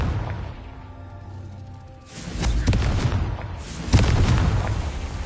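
A Confringo spell explosion in a Harry Potter video game: a heavy, booming blast swells in and rumbles, followed by a second sharp burst and lingering roar.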